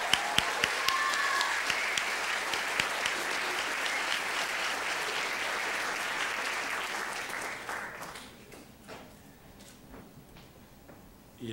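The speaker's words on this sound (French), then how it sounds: "On les applaudit bien fort." Warm applause from a cultural gala audience, a dense sustained clapping crowd for about eight seconds that then fades out, leaving a quiet room with a few scattered claps.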